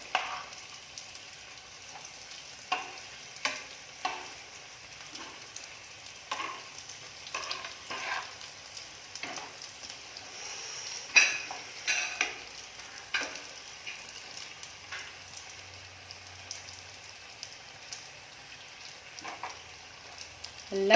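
Chicken roll frying in a pan as it is turned to brown on all sides: a soft continuous sizzle punctuated by scattered utensil clicks and taps.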